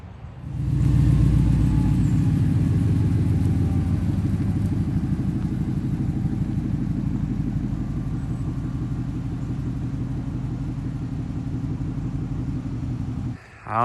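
A 2018 Chevrolet Silverado High Country pickup with a 6.2-liter V8 drives along, its engine rumbling loud and steady throughout, with deep low-frequency growl and road noise, briefly dipping near the end.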